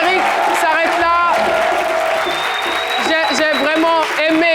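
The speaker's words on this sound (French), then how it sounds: "On les applaudit très fort" Loud studio audience applause on a French daytime talk show, with cheering and whoops, mixed with a host speaking over it throughout.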